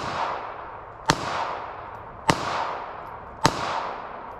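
Three sharp, loud shots from a Walther PPK/s pistol, evenly spaced about a second apart, each followed by a brief ringing echo, with no talking.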